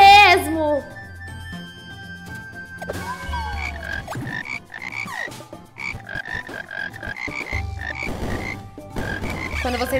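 Frogs croak repeatedly in the video game Frogun, in a quick run of chirpy croaks over background game music, with a child-like voice speaking at times.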